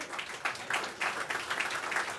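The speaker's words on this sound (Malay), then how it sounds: "kita berikan tepukan paling gemuruh kepada Ustaz Mazli Malik" Audience applause for Ustaz Mazli Malik at a religious lecture gathering, a moderate, steady patter of clapping that swells and dips in waves throughout.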